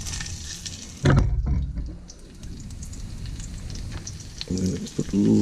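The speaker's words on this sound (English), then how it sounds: "Now there's the same wok, I'm just using the same oil. I'm going to add my onions." Onions dropped into hot oil in a wok over medium heat, a sudden loud sizzle burst then a steady crackling hiss, flaring again near the end.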